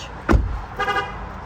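A Magicar car alarm gives a short, sharp chirp followed by a second, softer electronic beep a moment later, close by and with no talking.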